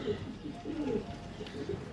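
Pigeons, including a pure white Elisa-line bird, give low throaty coos in short repeated phrases close by, over soft background noise.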